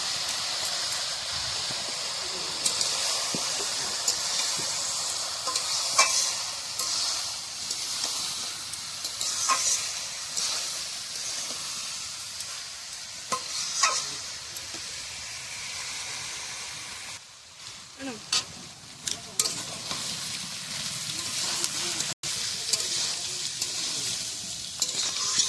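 Fried rice sizzles and is stirred in a pan over a wood-fired clay stove in a village kitchen, a steady close hiss broken by repeated scraping strokes of the spatula, with no talking.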